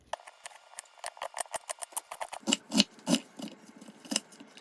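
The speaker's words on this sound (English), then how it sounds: "Step 1, cut up an onion." A knife chopping an onion on a cutting board, a rapid run of about two dozen crisp cuts and taps that grow heavier toward the end, close and alone with no speech.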